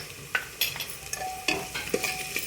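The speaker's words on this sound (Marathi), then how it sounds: "छान मिश्रण आपलं परतून घेऊ." Misal masala mixture with Everest onion-garlic masala being stirred and sautéed in a pan, giving a soft sizzle with several distinct scraping stir strokes close up.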